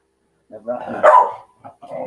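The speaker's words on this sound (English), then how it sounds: "Ignore the dog." A dog gives a short, sharp bark mixed in with someone speaking nearby, the brief yap standing out over his voice.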